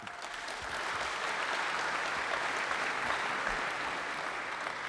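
Live audience clapping inside Union Chapel during an Arsenal fan show, a full sustained round of applause that rises quickly and stays dense and even.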